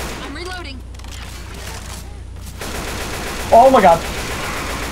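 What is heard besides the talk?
gunfire in the video game Left 4 Dead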